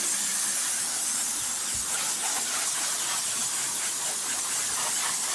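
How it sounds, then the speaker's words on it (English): A garden hose sprays water across cedar shingle siding to rinse off dirt, giving a steady, loud, close hiss that runs unbroken from start to finish with no voices. "So we're just rinsing this dirt off."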